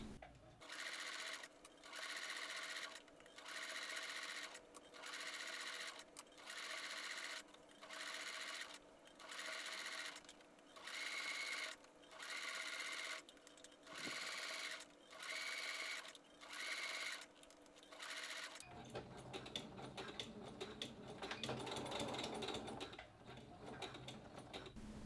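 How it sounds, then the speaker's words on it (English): A sewing machine stitches trim to the lower back yoke of a Star Trek TNG costume, running in steady rhythmic bursts with brief stops, then giving way to rustling handling noise near the end. "Sew the trim to the lower back yoke along the seam line, 3/8 of an inch from the upper edges."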